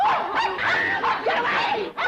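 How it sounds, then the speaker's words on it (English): A dog in a comedy scene barks and yips excitedly in a rapid, loud series of sharp calls, close by, with a few whimpering tones mixed in. "That vicious dog is going to attack me."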